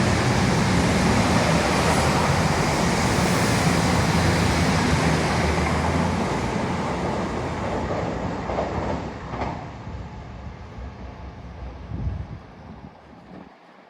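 A train rumbles past nearby with a broad roaring rush and rattling wheels, gradually fading as it moves away.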